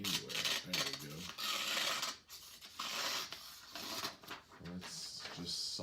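A TSPROF sharpener stone grinds along the edge of a KitchenAid knife in a series of raspy, scratchy strokes that come in bursts with short pauses, close and fairly loud.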